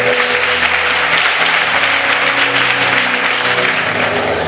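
A church congregation at a prophetic service bursts into loud, sustained applause, a dense wash of clapping that holds steady for several seconds with a faint murmur of voices underneath.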